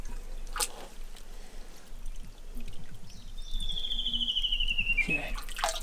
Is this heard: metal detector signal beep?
no